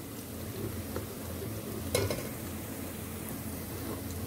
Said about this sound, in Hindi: प्याज जो है वो हमारा ब्राउन हो रहा है।